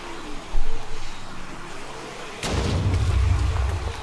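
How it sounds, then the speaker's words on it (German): A car explodes in the game 7 Days to Die: a sudden loud boom erupts midway, followed by a rumbling, crackling roar that lingers; a smaller thump sounds earlier. "Und heute lassen wir mein Auto explodieren."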